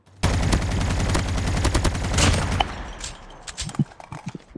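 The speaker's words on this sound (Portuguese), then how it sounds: "Tá atirando aonde, mano?" Loud, close automatic gunfire from a video game fires in a dense continuous burst for about two and a half seconds, then breaks into scattered single shots and faint distant pops.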